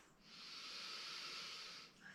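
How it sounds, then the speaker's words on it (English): Steady breathing during a morning yoga practice, one long soft hissing breath that carries on for about two seconds, close and fairly quiet, with no talking over it. "Clear breathing."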